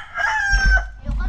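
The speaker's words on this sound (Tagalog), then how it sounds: "May manok." A rooster crows once, close and loud, its drawn-out call breaking into a ragged ending.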